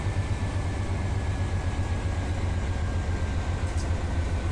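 A freight train passes in the Run 8 train simulator, a steady heavy low rumble with rolling wheel noise that stays constant and fairly loud throughout, with no talking.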